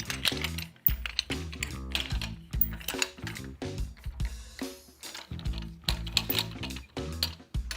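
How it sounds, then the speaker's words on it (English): Knobs on an Innovative SuperStand 6 clamp stand are loosened one after another, giving a dense run of loud, close metallic clicks, ratchety rattles and clanks that come in quick bursts with brief pauses. "First thing you're going to do is loosen up all your knobs."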